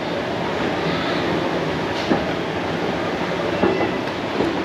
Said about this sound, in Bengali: কলকাতা স্টেশনে ট্রেন অলরেডি চলে এসছে